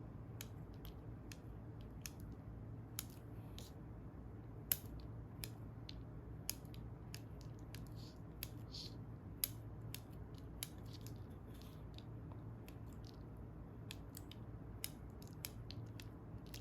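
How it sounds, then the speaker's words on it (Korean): Scissors snip moss on a small Christmas tree topiary, sharp close clicks and cuts scattered irregularly over a soft low background hum. "너무 튀어나와 있는 부분만 가위질 해주시면 돼요."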